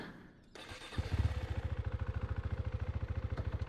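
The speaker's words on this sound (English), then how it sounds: "So we're going to start up the bike." A motorcycle engine cranks briefly, catches and settles into a steady, loud, rhythmic idle close by, with no talking.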